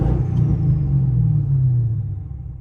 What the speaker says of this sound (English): I'll give it a rev.